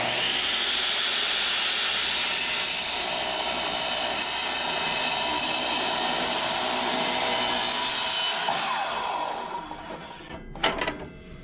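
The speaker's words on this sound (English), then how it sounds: "If you let the saw stop before you lift it out, you get the cleanest cut" A power saw plunges down and slides through a board with a loud, steady whining cut that holds for several seconds, then winds down and stops, followed by a few faint clunks.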